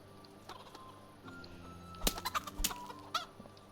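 Chickens in the medieval game Kingdom Come: Deliverance give soft, scattered clucks over a quiet ambient background, with a short cluster of sharper calls near the middle.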